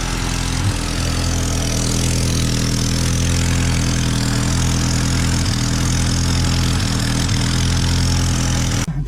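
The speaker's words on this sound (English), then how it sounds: "Sounds like it might have a bit of an exhaust leak." A 1986 Ford Mustang SVO turbo engine idles steadily with a suspected exhaust leak, giving a constant low rumble with a faint ticking hiss near the back, loud and close throughout with no talk.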